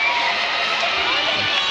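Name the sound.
volleyball arena crowd roaring after a long rally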